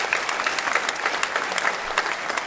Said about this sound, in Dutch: geef een applaus aan Habib